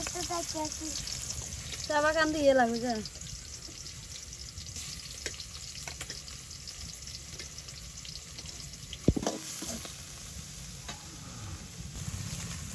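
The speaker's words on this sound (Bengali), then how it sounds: "তো এই যে এখানে ইসা মাছগুলো তেলে দিয়ে নিতেছি" Small river shrimp hitting hot oil in a village kitchen, sizzling and frying steadily throughout, with a brief burst of stirring clatter early on and occasional clinks of utensils nearby.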